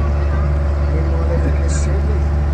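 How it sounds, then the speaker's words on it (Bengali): Tourist boat speeding across the water toward Neermahal in Tripura, with a steady loud engine drone and rushing wash filling the whole stretch, continuous and close. "আমাদের বোট বেশ জুড়েই চলছে, দুরন্ত গতিতে আমাদের বোট এগিয়ে চলেছে"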